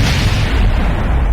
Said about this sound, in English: And yes, we exploded.